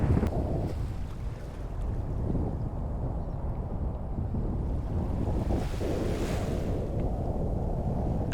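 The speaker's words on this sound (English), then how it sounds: "Look at those waves. Look at that swell." Ocean surf and swell at Praia Brava, Brazil, roar continuously under heavy wind buffeting the microphone, a dense, loud wash of breaking waves with no distinct individual crashes.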